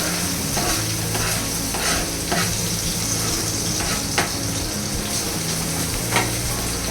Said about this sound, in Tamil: ஆயில் சூடாயிடுச்சு பாருங்கள். இப்போ ஆனியனை தள்ளிக்கிறேன்.